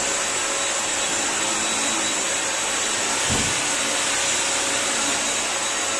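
A Bissell Crosswave PetPro wet vacuum cleaner washes and vacuums a floor, its motor holding a loud, steady, airy whine throughout with one brief low thump partway through.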